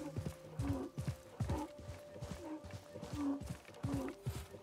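A camel plods across desert ground in Assassin's Creed Mirage, its hooves landing in a steady, rhythmic series of soft thuds, faint and fairly close, with a tonal hum beneath.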